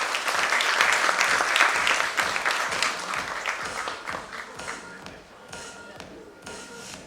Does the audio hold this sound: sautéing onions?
no